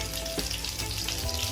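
Breadfruit pieces go into melted butter in a pan and sizzle, a steady, close frying hiss that runs unbroken with a few soft bumps.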